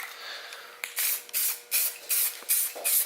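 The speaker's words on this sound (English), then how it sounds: "make sure it's spraying right" An aerosol can sprays direct-to-metal olive green paint onto a VQ35DE throttle body in about six short, close hissing bursts with brief gaps, after a quieter opening.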